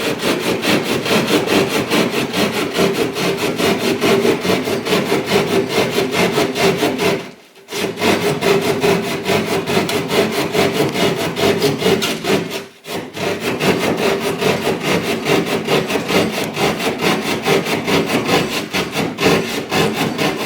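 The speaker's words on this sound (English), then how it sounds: "The saw is doing all the cutting." A handsaw cuts steadily through a wing wall without being forced, a continuous rasping stroke rhythm lasting about twenty seconds, close and loud, with two brief pauses partway through.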